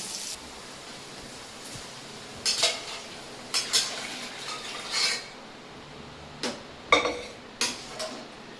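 Utensils clink and scrape against a pan while chicken masala sautés, several sharp metallic taps spread across a faint background hiss, close and without talk.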